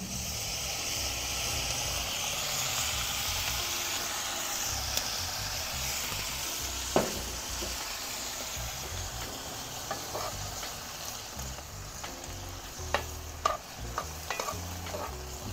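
White wine poured into a hot pan of Brussels sprouts on a Weber kettle grill, raising a loud, continuous sizzle and bubbling hiss with scattered sharp pops and scraping clicks toward the end.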